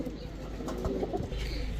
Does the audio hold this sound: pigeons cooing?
yes